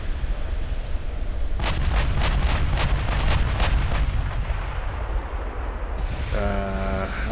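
Warship secondary guns firing in the naval strategy game Ultimate Admiral Dreadnoughts, a rapid series of loud booming shots over a constant sea-and-engine rumble, followed by a short electronic tone near the end.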